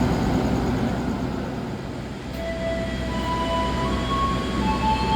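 KA Turangga panoramic train pulls away from Kutoarjo station with a steady loud rumble of wheels and carriages, and faint squeals rising and falling in the second half; no talk.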